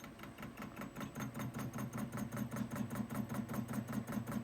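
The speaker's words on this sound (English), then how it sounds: "Then I put it in my lathe and turn the outside diameter correct" A metal lathe turns the outside diameter of a hard steel flywheel for a Kawasaki Z1 crankshaft with a tip tool on automatic feed: a steady, even mechanical hum with a regular rapid pulsing throb, continuous and moderately loud, no speech.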